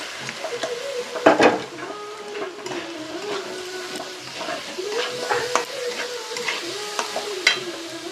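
Kashmiri chilli powder and moong dal frying in a pan while being stirred, a soft continuous sizzle broken by scraping strokes of the spatula, with faint voices in the background.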